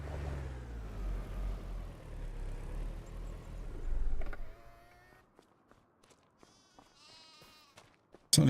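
Sheep bleating in Farming Simulator on a Scottish Highlands map, several wavering bleats over a rumbling engine-like background that drops away, followed by short clicks and a few fainter calls.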